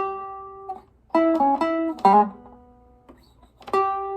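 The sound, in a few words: Chicago blues guitar turnaround variation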